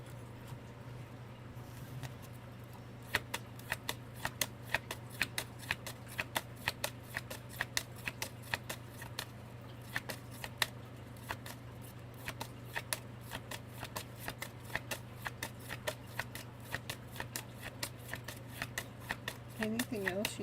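Tarot cards are shuffled continuously with rapid, crisp riffling clicks and flicks close by, over a steady low background hum, and a person talks intermittently throughout.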